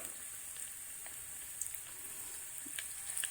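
Chicken frying in oil over a low flame, a faint steady sizzle with sparse soft pops and crackles, quiet and close.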